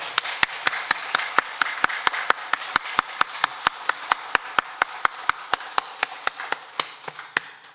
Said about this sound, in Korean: 위대하신 하나님, 영광 가운데 거하시는 우리 하나님 앞에 우리도 힘찬 박수로 영광 돌리겠습니다.